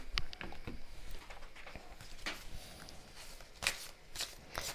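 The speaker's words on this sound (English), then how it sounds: "I'm going to take all 3 of those cards for you." Tarot cards shuffled and handled close up, a run of crisp riffling bursts and soft papery slides with short pauses between, fairly quiet and with no one speaking.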